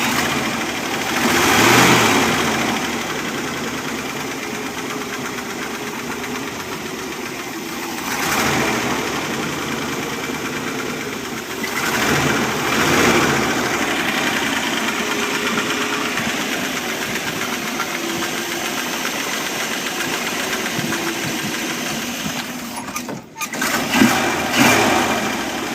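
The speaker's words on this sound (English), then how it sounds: "Fired right up." A 1975 Dodge motorhome's carbureted engine idles steadily just after startup, a continuous broadband rumble that surges a few times as the throttle is pumped, with a brief dropout near the end.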